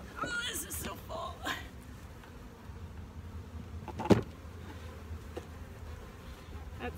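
Honeybees buzz around an open beehive as an empty super is set on top. The humming swarms close by, rising in short bursts, while people talk over it.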